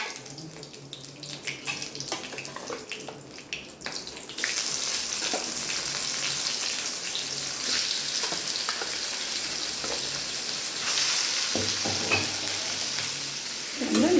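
Chicken dropped into hot oil with dried chilli and curry leaves: after a few seconds of quieter crackling, a loud, dense sizzle bursts up and holds steady, with occasional stirring clatter near the end.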